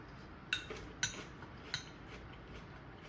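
A metal spoon clinks against a dish while scooping Thai tomato and pork relish, nam prik ong, giving three light, close taps spaced about a half second apart over quiet background.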